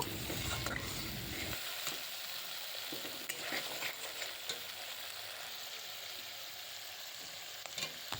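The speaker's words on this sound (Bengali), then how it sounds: "এবার আমি ওই তেলের মধ্যে মশলাটা দিয়ে ভালো করে কষিয়ে নেব" Spice paste fries in hot oil in a pan, a continuous loud sizzle with scraping and stirring of a spatula throughout, no voices.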